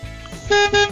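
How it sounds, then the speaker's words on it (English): Two short bus horn toots sound in quick succession, clear and fairly close, over a low rumbling background. "Bus."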